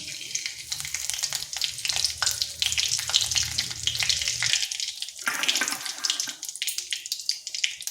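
Whole cumin, two cloves, two cardamom pods and two pieces of cinnamon sizzle in hot oil, a close, crackling hiss with irregular pops that briefly thins out midway before resuming.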